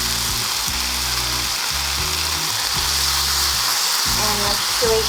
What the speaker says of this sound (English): Now I'm gonna add some mushroom sauce